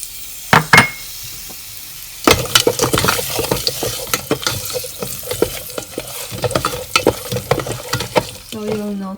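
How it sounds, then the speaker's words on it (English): Sliced ginger sizzles with garlic inside a rice cooker, a steady frying crackle broken by clinks and scrapes of stirring, close and fairly loud, with no talk. "Now let's put in the sliced ginger."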